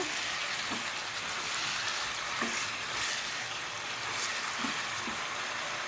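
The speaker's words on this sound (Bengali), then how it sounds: "মাংসটা আমার ভাজা ভাজা হয়ে গেছে" Chicken meat fries in a pan with a steady, bright hiss of hot oil, broken by a few faint clinks from stirring, with no voices.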